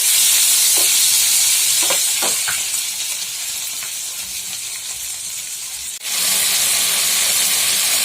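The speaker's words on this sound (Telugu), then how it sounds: "ఇప్పుడు టమాటోస్ని కూడా ఫ్రై చేసుకోవాలి." Tomatoes sizzle and hiss in a hot pan, with a few clinks from stirring early on, and the frying noise drops out briefly before resuming at the same steady level.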